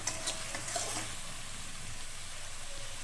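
Spice paste with a splash of water fries in a pan for a pabda fish recipe, producing a soft, even hiss and sizzle with a few faint stir noises early on, no speech.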